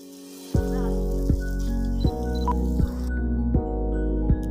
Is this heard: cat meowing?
no